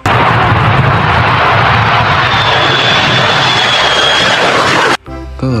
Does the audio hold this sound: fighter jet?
yes